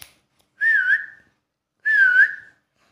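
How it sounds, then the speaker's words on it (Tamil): Two separate rising-and-falling whistles, each lasting under a second and sounding loud and close, called out by a person to pet lovebirds during their first attempts at flight, with silence between them. "இது மேலே வச்சுனியும் விசில் ஊதினி பறந்து வர ட்ரை பண்ணுங்க"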